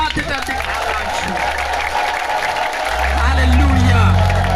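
Crowd at a gathering breaks into loud, continuous applause mixed with ululation and cheering, a dense wash of clapping that swells toward the end, with voices talking over it.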